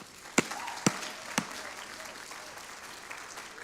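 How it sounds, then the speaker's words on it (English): Guests at a social worker of the year awards ceremony in Dorset applaud, a sustained wash of clapping punctuated by three sharp, loud claps close by early on. "So a big applause for everybody who's here and on the live stream right now."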